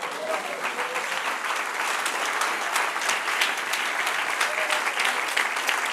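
A church congregation applauds after a pastor's sermon, a dense, steady clapping from a crowd sustained for several seconds with faint voices mixed in.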